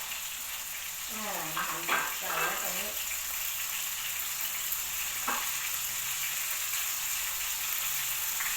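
Vegetables are stir-fried in a pan, giving a steady hiss and crackle of frying throughout, with a brief voice speaking over the sizzle near the start.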